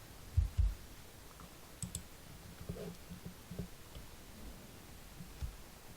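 Scattered soft mouse clicks on on-screen buttons during a digital banking task, a few faint taps spread over several seconds in a quiet room.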